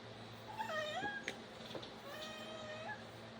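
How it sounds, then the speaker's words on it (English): A house cat meows twice, drawn-out and wavering calls close by, with a brief sharp noise between them over a low steady background hum. "It's just an ordinary house cat."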